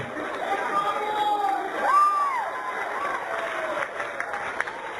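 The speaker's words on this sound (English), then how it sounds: "He's getting an applause break." A crowd applauds and cheers in a steady wash of clapping, with whoops and raised voices swelling near the middle, heard from a played recording.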